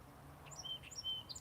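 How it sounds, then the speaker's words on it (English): A song sparrow sings at Lac Matapédia in Gaspésie, a faint series of thin, high chirps and short trills over a low steady background rumble, with no voices. "Oh, well, we have a song sparrow up here."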